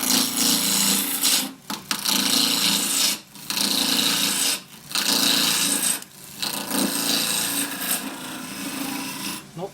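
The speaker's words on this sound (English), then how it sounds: "Peeling cut, tool flat on the rest." A turning tool held flat on the rest takes a peeling cut across end grain on a wood lathe while shaping a button foot, giving loud, close, sustained rasping shavings in long bursts broken by short pauses.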